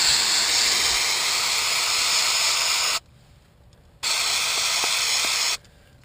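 CRC mass airflow sensor cleaner sprays from an aerosol can in two close, loud, hissing bursts: a long one of about three seconds and a shorter one after a brief pause.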